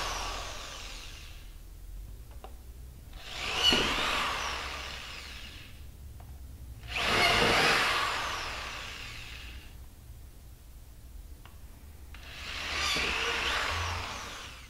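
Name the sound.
power drill drilling holes in panel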